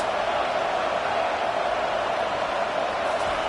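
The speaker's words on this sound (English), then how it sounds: "Listen to this crowd just shaking the girders of this place, trying to help their defense." Crowd roar fills a stadium in an American football video game, a dense, steady wall of cheering and noise that stays loud and unbroken throughout.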